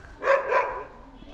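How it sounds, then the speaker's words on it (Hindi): A village dog barks twice in quick succession at nearby people, a short sharp pair of yaps close by, with faint background noise and no clear talk. "ये डॉगी हमें देखकर भौंक रहा है।"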